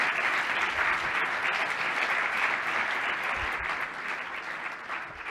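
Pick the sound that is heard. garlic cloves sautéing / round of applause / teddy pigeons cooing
round of applause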